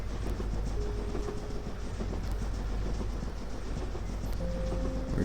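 Game train with a line of carriages rolling steadily along, a dense continuous mechanical rumble with faint tonal hums, fairly loud and steady throughout with no talk.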